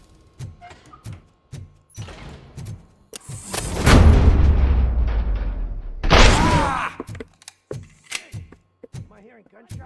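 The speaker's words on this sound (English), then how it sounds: "Am I hearing gunshots?" Gunfire in the video game RoboCop: Rogue City, with sharp scattered shots, a long heavy rumbling blast through the middle and a second burst after it, then more isolated cracks while voices speak between them.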